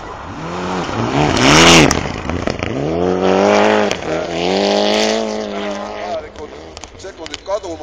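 A rally car races on an ice track, its engine revving hard in rising and falling sweeps as it passes near and loud, then fading with a few sharp bursts at the end.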